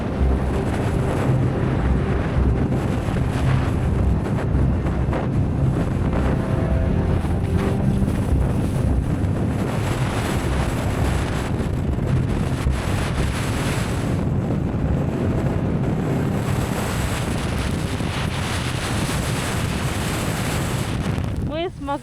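Constant hurricane-force winter wind on the Dyatlov Pass buffets the microphone throughout, with broadband rushing noise and surging gusts, loud and unbroken, with faint voices underneath.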